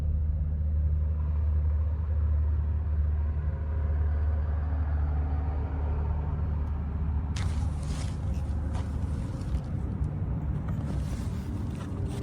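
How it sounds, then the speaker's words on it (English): A big truck passes outside, a steady low rumble with engine drone throughout that swells into a louder, rougher roar with wind-like hiss in the last few seconds. "That's a big truck passing."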